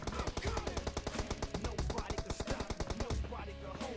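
Rapid automatic gunfire from a shooting video game rattles in quick, evenly spaced bursts for several seconds, moderately loud, then breaks off near the end.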